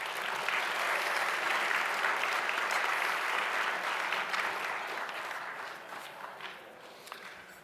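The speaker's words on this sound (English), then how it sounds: "So one more round of applause," Sustained audience applause at an evening awards show honoring its sponsors, a dense wash of clapping that stays loud for several seconds before gradually thinning and fading toward the end.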